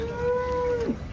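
At the Sunday cow market in Chintamani, Karnataka, one cow lets out a single drawn-out moo that bends downward at the end, over a steady background of market noise.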